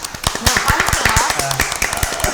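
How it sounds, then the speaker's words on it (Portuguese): Scattered hand claps from a small group greet a guest as an episode of a Brazilian nerd-culture show wraps up, sharp uneven slaps close by with voices talking over them. "palmas para a Bia"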